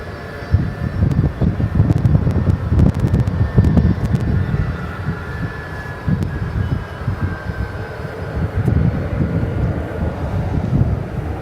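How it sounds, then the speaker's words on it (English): A Boeing 757 arriving from Orlando at DFW Airport at night rumbles steadily, a loud, continuous low engine roar with a faint whine on top and no voices. "It's another 757. This one arriving from Orlando,"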